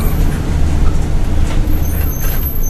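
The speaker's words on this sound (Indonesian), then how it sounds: "Hanya deru mesin mobil saja yang kudengar." A bus engine drones steadily on a quiet night road with no traffic jam, a deep continuous low rumble that stays loud and even throughout, with no voices.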